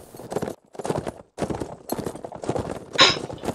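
Horse hooves clip-clop in a fast galloping rhythm within a video game, loud and close, in quick bursts of beats with brief gaps and a sharp clatter near the end.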